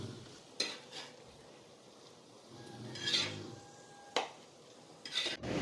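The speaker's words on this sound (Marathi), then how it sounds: "आता मी एका प्लेटमध्ये काढून घेते।" Cooked cauliflower is scraped from a pan onto a plate, with a few sharp utensil knocks and clinks against cookware, scattered scraping and a faint sizzle between quiet gaps.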